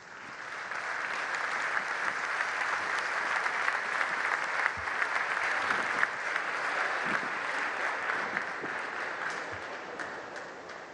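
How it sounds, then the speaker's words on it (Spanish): Sustained applause from a convention audience at a Mexican banking convention, steady dense clapping throughout at an even level, with no talk over it. "Démosle un fuerte aplauso."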